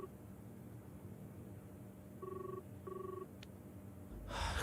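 A telephone rings twice in short electronic bursts over a quiet background, followed by a brief burst of noise at the end.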